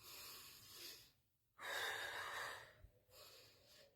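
Slow, deliberate breaths are paced in a two-count breathing exercise for calming anxiety, with a long airy inhale or exhale, a pause, then another breath, all close and soft with no speech.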